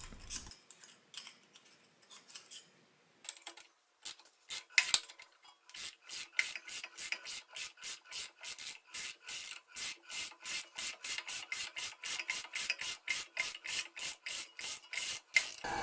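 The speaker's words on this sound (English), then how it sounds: "Just removing the chips from the bottom of the tap before backing out." Metal chips are brushed out of the bottom of a tapped hole on a Rockwell lathe restoration, heard as a fast, regular run of crisp scratchy rasping strokes after a few scattered scrapes, close and fairly quiet.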